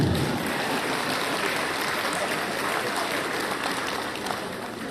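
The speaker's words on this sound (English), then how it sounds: "You can clap if you're happy about that." An audience of tourism stakeholders at a general assembly claps in a broad, even wash of applause that holds steady for a few seconds before tapering slightly, with no talk over it.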